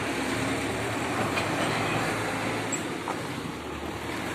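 A tractor pulling a feed mixer wagon with Gazelle truck wheels on a dairy farm drives off, giving a steady broadband engine rumble and rattle with no pauses.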